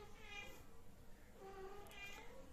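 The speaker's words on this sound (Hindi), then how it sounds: "पीछे से मेरी बिल्ली की आवाज़ आ रही होगी," A pet cat meows twice in the background, faint and distant, the calls spaced about a second apart over a quiet room hiss.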